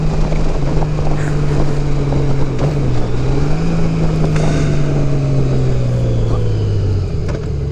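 A 2018 Honda Goldwing Tour motorcycle with modified stock mufflers riding on the road, a steady loud engine drone shifting slightly in pitch, with heavy wind rush throughout.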